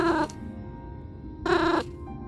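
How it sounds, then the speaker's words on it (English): A house cat meows twice, close and loud, each call short and tonal, with a brief quiet stretch between them and faint game audio underneath. "That's some good kitty noises."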